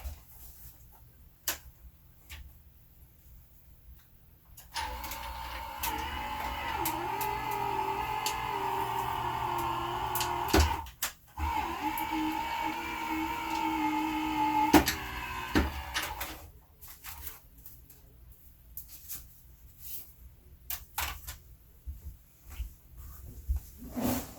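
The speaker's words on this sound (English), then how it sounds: "lay a acrylic plate over the top of that and run that through our die cutter. I'm going to run it through 2 times." A die cutting machine presses a card under an acrylic plate, grinding steadily for several seconds in a moderate mechanical hum, with scattered clicks and taps before and after the pass.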